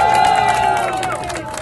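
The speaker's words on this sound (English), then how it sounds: "So I would like to big round of applause for our community." Crowd noise at a Pakistan Day Parade in New Jersey celebrating Pakistan's independence, a steady roar of cheering and clapping from a large outdoor gathering that stays loud and then eases slightly.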